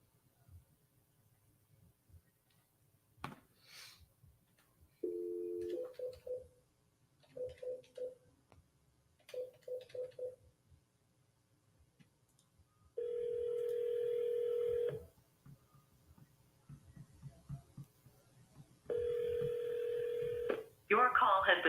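A telephone call being dialed: three short bursts of keypad tones followed by two long, steady ringing tones with silence between them, clear and close.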